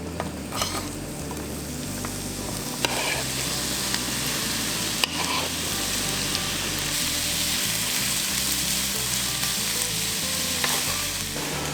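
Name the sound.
onions frying in butter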